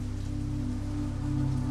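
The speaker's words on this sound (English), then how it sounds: "The rain fell steadily now" Steady rain falls on a surface, a dense, even hiss with a low rumbling bed that holds constant and close throughout, with no voices.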